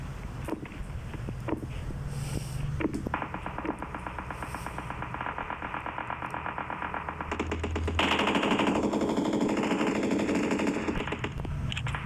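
Rapid automatic gunfire from the PUBG battle-royale shooter rattles in sustained bursts, growing denser and louder partway through against a steady windy background.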